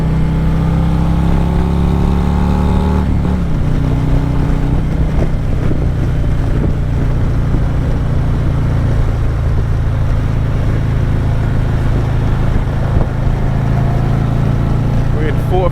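A 2022 Harley-Davidson Street Glide ST with a Vance & Hines Torquer 450 exhaust accelerates in third gear at about 4,000 rpm: a loud, steady engine roar with a gear change near the start and wind buffeting throughout.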